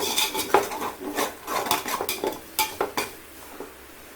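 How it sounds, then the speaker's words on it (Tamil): Tomatoes and yogurt go into a sizzling pan of Muslim chicken biryani and get stirred, with loud metal spoon scrapes and clanks against the pot in an irregular rhythm over a soft frying hiss. "வதக்கின அப்புறமா நாம் வெட்ஜஸாக கட் பண்ணி வச்சுருக்க தக்காளி இதில் சேர்த்துக்கிறோம்"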